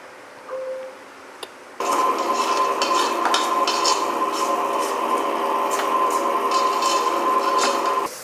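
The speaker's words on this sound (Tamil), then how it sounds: "இப்போது மில்க் மிக்ஸ் பண்ண போகிறோம்" An electric mixer blending A2 milk into cookie flour for millet-based organic cookies. A brief clatter comes first, then a steady, loud motor whir with a constant hum that runs unbroken to the end.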